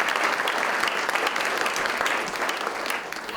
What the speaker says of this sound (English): I'm clapping too